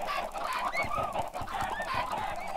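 A large flock of Minecraft chickens crowded together in the video game, overlapping clucks and squawks in a dense, busy chorus that continues without pause.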